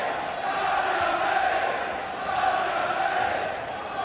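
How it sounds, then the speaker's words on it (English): A darts arena crowd rises to its feet at a Champions League of Darts semi-final, a broad, steady roar of cheering and shouting that swells twice, with commentary faintly underneath. "Crowd on their feet."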